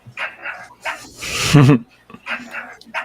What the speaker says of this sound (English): That might be your dog, Josh.